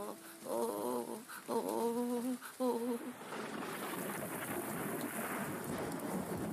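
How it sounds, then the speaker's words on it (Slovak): A thunderstorm with steady heavy rain and rolling thunder building into a dense wash of noise, while a dog barks and whines over it at the start. "Vieš, Julien, búrka možno pôsobí desivo, ale v skutočnosti to tak nie je."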